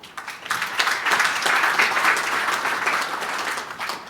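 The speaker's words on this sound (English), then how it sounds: "Round of applause." A room of seminar attendees at a property masterclass claps together, a dense, even burst of applause starting abruptly and holding steady for a few seconds before easing off.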